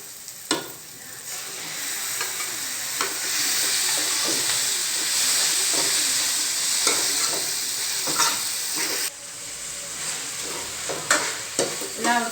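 Tomato tossed into fenugreek leaves frying in a pan, a loud continuous sizzle with repeated spoon scrapes and knocks against the vessel, close up throughout.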